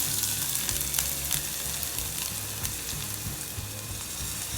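Onions sautéing in a pan with a little salt, a dense, continuous close sizzle and hiss with no voices.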